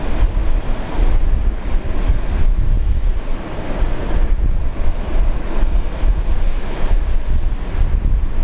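An Air Niugini airliner arriving from Port Moresby roars past at Brisbane International Airport, a loud, steady rumble that holds throughout with gusts of wind over the microphone.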